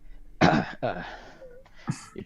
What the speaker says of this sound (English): And then he'll kind of like cough a little bit